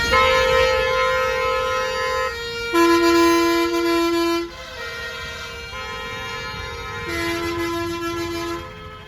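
Heavy traffic heard from inside a stuck bus near Jaipur at night, with loud sustained blaring horns overlapping and changing pitch, one long honk giving way to another, close and continuous.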